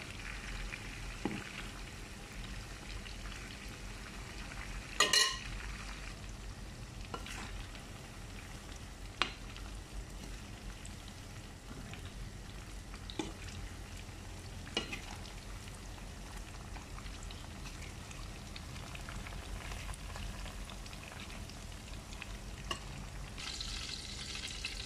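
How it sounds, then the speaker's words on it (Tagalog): Cooking oil heating in a pan, a steady, soft, continuous sizzle and fine crackle with scattered small pops and one louder clatter, close and unbroken with no talking. "Nagpapainit po ako sa mantika."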